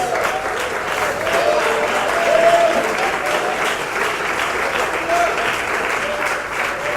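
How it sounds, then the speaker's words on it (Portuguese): A church congregation clapping together during a worship service, the steady, loud applause holding for several seconds with a few voices calling out over it. "Pode tomar o teu assento e aplaudir a Cristo o melhor que você puder"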